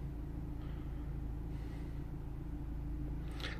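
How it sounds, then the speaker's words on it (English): A Mercedes C180 Kompressor with an air flow meter fault and misfires idles quietly in a workshop, a faint, steady low rumble with a brief higher rustle near the end. "The engine is running and is, is running quite smooth."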